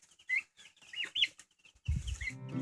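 White broiler chicks in a brooder give several short, high chirping clucks in quick bursts, then a lower, louder burst of sound near the end.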